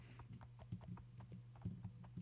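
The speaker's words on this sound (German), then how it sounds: "Also ich reite auf meinem Esel." Donkey hooves clip-clop steadily in Minecraft while the animal is ridden, a brisk even rhythm of soft, distinct knocks over a low constant hum.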